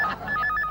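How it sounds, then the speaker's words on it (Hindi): An electronic telephone ring trills twice in a short burst from a Hindi comedy sitcom scene, fairly close and clear with no speech over it. "फोन"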